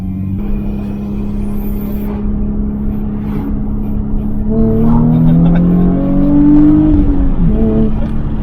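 Road traffic rumbles steadily nearby as cars pass along a roadside, with engine drone rising as one accelerates in the second half, loud and continuous with no talking.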